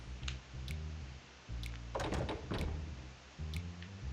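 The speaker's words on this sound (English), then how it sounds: "let's put the gear back in" A gear slotted back into windmill machinery in the video game Pokémon Colosseum: a cluster of mechanical clunks and clanks rising over a steady low game drone.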